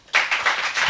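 Brief burst of audience clapping at a stage event, starting abruptly and holding as a quick rhythmic patter of several pairs of hands for under a second.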